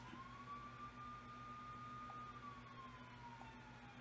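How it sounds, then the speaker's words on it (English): A faint police siren wails in the X-Men Legends video game, one slow rising and falling tone that sounds distant over a steady background hum. "I hear a cop siren somewhere."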